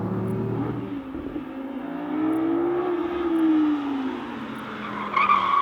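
An Audi R8 GT sports car exits a corner on an Alpine road in wet weather, its engine note rising steadily then holding a sustained drone with light tyre noise, close and loud throughout with no talking.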